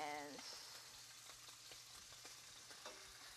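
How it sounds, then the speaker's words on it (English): Scallops searing in a hot pan, a steady dense sizzle with scattered crackles and pops, close and continuous from start to finish. "while those few scallops are searing up"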